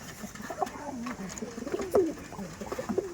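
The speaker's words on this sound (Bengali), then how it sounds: "এটা আন্ধ্রা পায়রা আন্ধ্রা পিয়ার দেখুন" Andhra pigeons coo softly and repeatedly at close range, low throaty calls rising and falling over light background noise.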